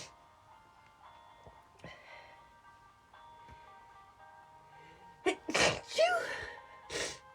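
A person sneezes three times in quick succession near the end, loud and close, after a stretch of quiet room tone broken by a few faint clicks.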